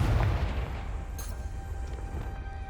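A Confringo blasting spell bursts in the Hogwarts Legacy game with a deep, heavy boom at the start, followed by a low rumbling decay that carries on for a couple of seconds.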